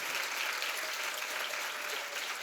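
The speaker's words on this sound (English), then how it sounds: "A round of applause for our panelists." Applause rises from the audience at a Sault Ste. Marie Chamber of Commerce Women in Business breakfast, a fairly soft but sustained patter of many hands clapping for the panelists.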